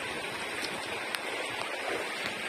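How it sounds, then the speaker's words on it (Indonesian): Heavy tropical rain pours steadily onto a bamboo shelter at a campsite, a dense, even hiss of drops with occasional sharper splashes, close and continuous, no voices. "Ya, hujan nggak mungkin reda-reda."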